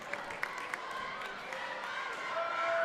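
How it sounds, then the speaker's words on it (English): A crowd at a high school senior night basketball game applauds a player, scattered claps and murmuring from the stands that swell slightly toward the end, heard from a distance in a gym. "Gets a nice round of applause"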